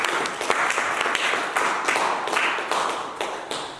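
A church congregation claps in praise of Jesus during a service, with steady rhythmic handclaps sounding about twice per second from a crowd, continuing evenly throughout.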